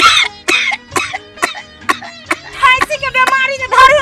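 A rapid series of harsh coughs from a person in a Maithili comedy sketch, about two per second, loud and close, then continuing in quicker, rougher bursts.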